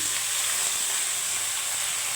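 Potatoes and a carrot sizzling in oil with softened onions for a leafy greens fry, a continuous even crackling hiss, close and steady throughout with no voices.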